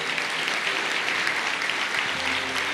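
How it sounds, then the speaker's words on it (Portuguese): A church congregation applauding together, a dense, even wash of clapping that holds steady throughout with no one speaking over it. "você pode aplaudir ao Senhor"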